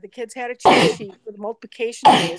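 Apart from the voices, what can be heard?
a person sneezing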